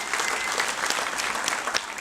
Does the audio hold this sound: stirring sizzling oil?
no